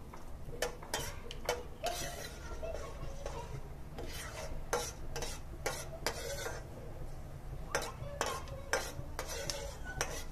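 Fenugreek seeds frying in hot oil in a pan while making radish pickle, faint sizzling under repeated spoon taps and scraping against the pan, quiet and close with no talk.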